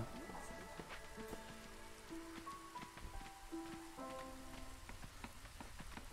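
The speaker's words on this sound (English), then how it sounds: "I suppose we might as well start doing some rain." Rain falls in the Against the Storm city-building game, a soft, steady patter of drops over faint background tones, with quiet talking at times.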